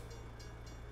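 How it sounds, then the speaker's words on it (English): Freight train of about a dozen cars rolling past in American Truck Simulator, a steady low rumble with rail clatter filling the whole second at a constant level. "That train's got a few more cars than normal."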